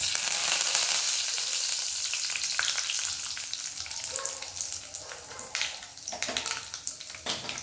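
Dried chillies and curry leaves fry in hot oil for a chutney tempering, giving a bright, steady sizzle that settles a little before bursts of crackling and stirring near the end, close and alone.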